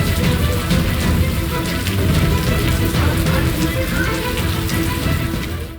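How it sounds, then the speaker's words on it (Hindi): Heavy rain pours steadily and loudly in a storm over districts of Madhya Pradesh, a dense continuous hiss with no distinct thunderclap standing out. "गरज के साथ लगातार हो रही बारिश ने मध्य प्रदेश के कई जिलों में तांडव मचा रखा है"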